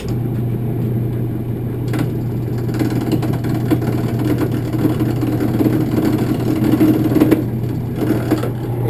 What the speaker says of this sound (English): This wood is very hard, and that makes it a whole lot harder to turn that piece of wood there.